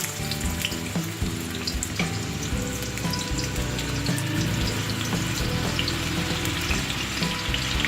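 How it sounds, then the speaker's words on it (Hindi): Onion dropped into hot oil with cumin and fenugreek seeds for a karhi tempering, sizzling and frying loudly and steadily throughout with no talk. "ऑयल गरम हो गया है। अब इसमें मैं प्याज डाल दूंगी।"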